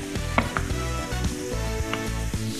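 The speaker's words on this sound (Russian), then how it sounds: "И все это надо хорошо поджарить." Onion, garlic and pepper frying in a pan for a quesadilla, a steady close sizzle with a few light stirring clicks and knocks, no voices.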